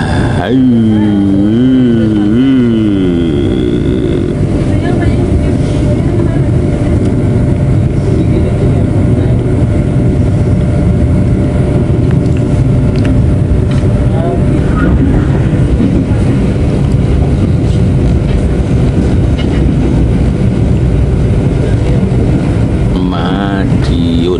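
Riding inside the Ranggajati executive-class train near Madiun on the Jember–Yogyakarta route brings a loud, unbroken rolling rumble of the carriage, with a wavering tone rising and falling early on.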